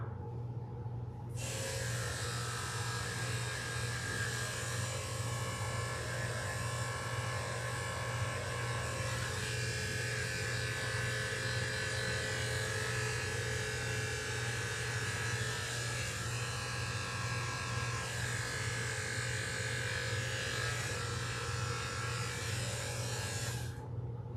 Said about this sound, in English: We'll go ahead and shave his bum now.